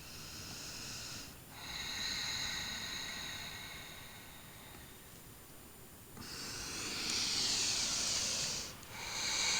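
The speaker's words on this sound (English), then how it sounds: "Close your eyes wherever you are and just begin to breathe." Slow, steady breathing in a yoga class, with long hissing breaths that swell and fade at an unhurried pace, close and fairly quiet, and no talking.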